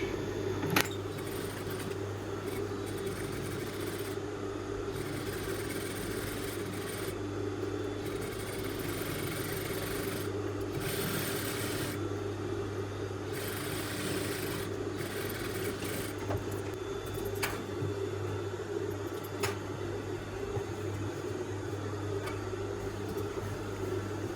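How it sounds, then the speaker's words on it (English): A sewing machine runs in long continuous bursts stitching a seam on a pair of kids' lazy pants, a steady close mechanical whir with brief pauses and faint clicks. "we want to stitch it again now with 1 cm seam allowance"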